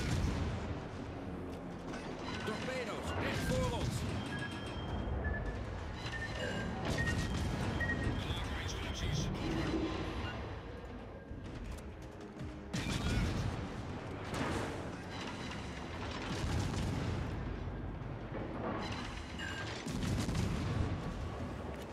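Torpedoes and gunfire from the Tromp warship in a naval video game: a dense, continuous barrage of booming shots and explosions that rises and falls in waves for about twenty seconds.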